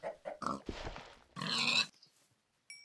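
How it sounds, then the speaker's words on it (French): Pigs oinking and grunting in a French-language video game, a few short bursts in quick succession over about three seconds, moderately loud and alone, with a faint high tone at the end. "Et des cochons, oh, bah c'est cool ça."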